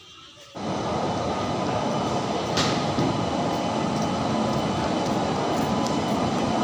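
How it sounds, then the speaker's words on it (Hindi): A train runs past a railway station platform in India with a sudden swell into a loud, steady rumbling roar. The roar holds evenly with a faint metallic squeal partway through. "ये सब ट्रेनों का आवागमन चालू हो चुका है"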